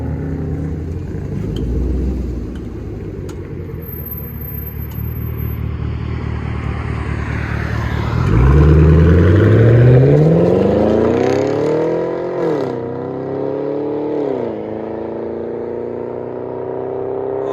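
A straight-piped 2015 Chevy Camaro SS with a 6.2L V8, X-pipe and 4.5-inch tips idles with a loud, deep rumble, then revs up hard with a rising roar and falls back, with a couple of quick blips near the end.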